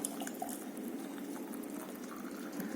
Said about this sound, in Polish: Słoiczki dokładnie myjemy i musimy wyparzyć gorącą wodą